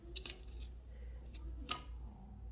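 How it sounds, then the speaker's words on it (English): Scissors snip through paper while shapes are cut out, a few quick crisp cuts close by over a low steady hum, with no talking. "then I would cut it out of the other papers as well."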